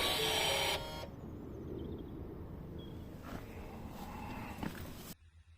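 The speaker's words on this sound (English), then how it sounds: "you will hear the electric motor on the rear axle calibrating and adjusting to the new brake pads" Electric parking brake motor on the rear axle of a 2016 Ford Mondeo MK5 whirring steadily as it calibrates to new brake pads, a faint mechanical hum after a louder opening burst, ending abruptly in near silence.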